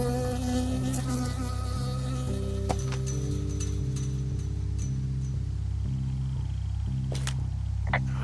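A bee buzzing in the Firewatch game, a close whining insect drone that hovers and wavers over a low, pulsing ambient hum, with a few sharp clicks scattered through.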